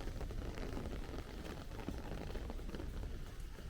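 Steady rain falls on a Bensonhurst, Brooklyn street, a constant soft hiss of drops on pavement and surfaces, fairly quiet and even, with no voices.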